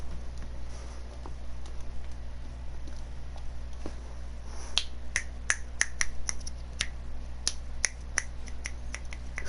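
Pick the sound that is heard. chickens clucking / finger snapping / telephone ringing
finger snapping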